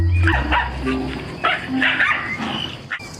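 A family dog barking at a young bear cub, several sharp close barks in quick bursts with a few yips between them, loud and near, with a faint voice underneath.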